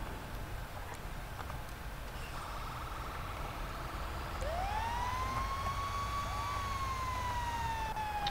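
A fire truck siren winds up and wails steadily over a rumbling engine and road noise, faint at first and then sustained at a moderate distance.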